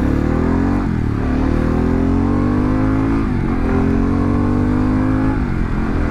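A Harley-Davidson Pan America 1250 motorcycle engine revving on a test ride, a loud, gritty continuous roar with rising and falling pitch sweeps, close up and alone.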